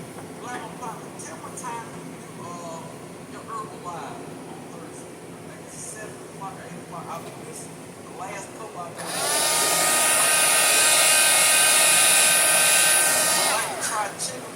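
A handheld dryer switches on partway through, blowing a steady loud whine with a high tone while drying a wooden domino case, after quieter background sounds and faint voices.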